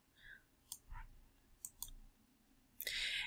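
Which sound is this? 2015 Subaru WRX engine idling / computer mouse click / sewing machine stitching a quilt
computer mouse click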